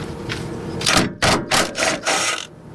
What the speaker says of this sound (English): So I've just got this impact driver, and see if that doesn't just take it out.